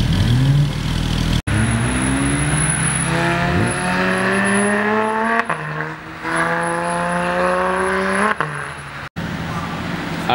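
A BMW i8 Roadster supercar accelerates hard and loud, its engine tone climbing in rising sweeps through several gear changes with sharp breaks between shifts, heard up close with possible faint voices.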